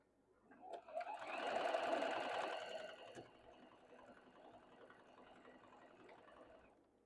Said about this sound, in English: So now we're going to sew this on, and then we'll sew them together down the middle.